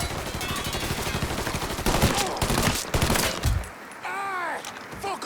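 Rapid, sustained gunfire in the video game Mafia III, dense bursts of automatic shots filling the first three and a half seconds, then a short tail of trailing noise and a few chirping tones.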